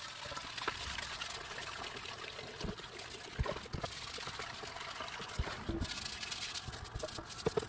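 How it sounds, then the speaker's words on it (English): Hot water trickles and pours over a rusty tool that has been soaked in homemade rust remover, a steady close wash of running water with small splashes throughout. "So let's get it over, wash it off with some hot water"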